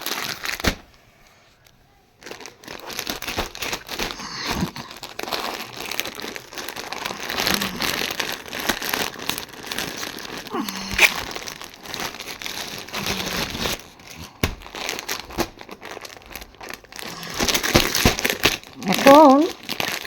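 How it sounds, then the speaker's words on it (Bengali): A package from online shopping is torn and crinkled open by hand, its plastic and paper rustling in dense, uneven bursts for about twenty seconds, close up, with a pause early on and a louder crackling stretch near the end. "তো এইটা এরকম করে আমি ছিঁড়ে নিলাম।"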